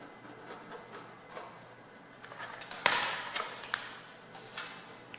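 A marker pen scratches a line across fabric while making a jewelry box, a series of short, close rubbing strokes that grow denser and louder midway, with no talk over them.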